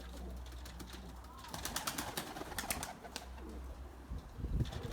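Erzurum white breeding pigeons in a coop give soft, low coos with a brief flutter of wings, near but faint over a steady low hum.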